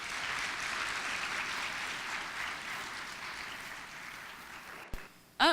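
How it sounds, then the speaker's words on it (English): Audience applause at a student recognition breakfast, a steady wash of many hands clapping for about five seconds before a brief knock and a sudden louder sound at the end. "Can we please give them another round of applause?"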